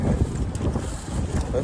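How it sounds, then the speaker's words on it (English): Strong wind buffets the microphone on a lake during early spring bass fishing, a rough, steady roar with a voice partly audible beneath it. "And it's windy as hell. Wind is kicking up"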